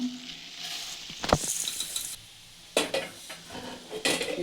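A spoon scrapes and stirs dry, crackly puffed rice into hot tempering in a pan, several rustling strokes with brief pauses between them.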